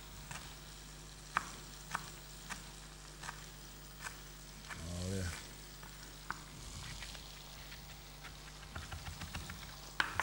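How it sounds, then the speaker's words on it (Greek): Mushrooms frying in oil in a pan, a steady close sizzle with occasional stirring clicks and scrapes, a short bubbling burst midway, and a brief word spoken over it. "για να φτιάξετε μια υπέροχη τηγανιά με μανιτάρια"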